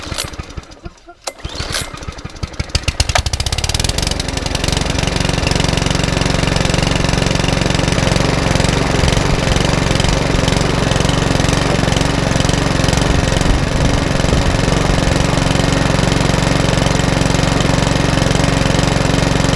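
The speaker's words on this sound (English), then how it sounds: "that little Mountfield lawnmower is now up and running exactly how it should do" A Mountfield HP164 petrol lawnmower engine cranks with a few uneven bursts, then catches and runs loud and steady close by at a constant drone, with no voices.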